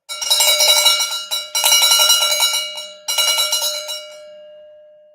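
Three bursts of a metallic cowbell sound effect, rapid struck hits with a clear ringing tone, played loud and alone on a livestream, the last one trailing off into a sustained fading ring.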